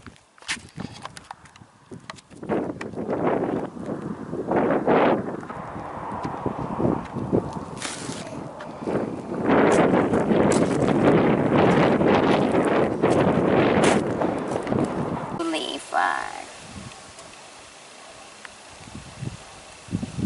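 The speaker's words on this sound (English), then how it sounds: "I felt all the wind. I could feel it in the speaker." Outdoor wind buffets the microphone in a steady loud rumbling roar that surges and lingers for most of the stretch before easing off near the end, with no voices over it.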